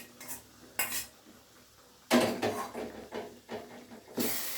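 Pumpkin pieces tipped into a pot of buttermilk curry on a switched-off gas stove, with a few sharp metal clinks and scrapes of a spoon against the pot, then a busier stretch of clattering and stirring.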